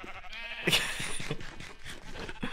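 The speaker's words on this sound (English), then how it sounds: "There's so many sheep here." Sheep bleat across a busy video game farm in one continuous, fairly quiet layer of overlapping game sounds, with one brighter sharp sound near the start.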